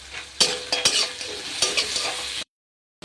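Onions fry in hot oil for a chicken kosha, sizzling steadily while a spatula scrapes and stirs in a few sharp strokes, close and moderately loud, then abruptly cut off.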